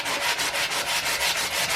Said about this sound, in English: I removed the tape and sanded away any rubber that seeped under the tape.